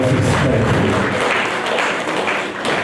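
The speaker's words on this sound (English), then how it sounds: "let us give a great louder applause to our God" Congregation applauding at a thanksgiving service, a loud, continuous rush of many hands clapping at once with scattered taps and thuds, sustained for a few seconds.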